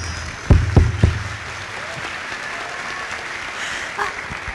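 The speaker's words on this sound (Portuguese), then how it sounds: "Obrigado por aplaudir a minha desgraça, é isso?" A live audience at a Campus Party Brazil talk breaks into a short burst of applause and laughter, a few loud claps up front that quickly thin into a steady murmur of room noise.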